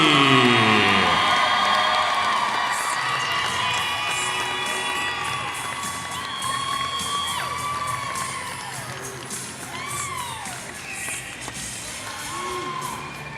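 A gym crowd at a 3A North boys region championship basketball game cheers, whoops and applauds loudly, with children shouting, the roar fading slightly but staying dense throughout.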